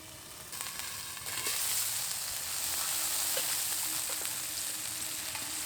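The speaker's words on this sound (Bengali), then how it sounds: "এভাবে কম তাপে আমি চিকেনটাকে ভালোভাবে ভেজে নেবো, তাহলে একদম ভিতর পর্যন্ত ভাজা হয়ে যাবে।" Chicken frying in a covered pan over low heat, a steady sizzle and crackle that swells after the first second and holds loud and even, with a few small pops and clinks.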